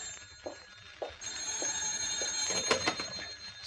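A telephone rings in an old radio drama, a steady high electric bell trilling continuously at moderate volume over low background rumble.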